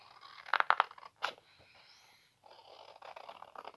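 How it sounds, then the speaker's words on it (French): A few quick crunchy snips of scissors through paper, then a pause, followed by softer rustling cutting sounds nearby. "je vais faire au ciseau"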